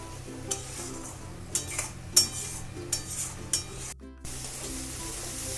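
Spice paste sautés in a pan with a soft steady sizzle, punctuated by a series of scraping stirs and metallic clinks of a spoon against the pan, close and moderately quiet.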